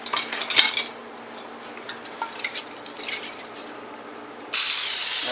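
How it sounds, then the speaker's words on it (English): Cooking spray hits a foil-lined tray for jerk chicken wings. A few metallic clinks and rustles lead into a loud, steady hiss of spray near the end. "I'm going to spray this tray because the wings do become sticky at some point"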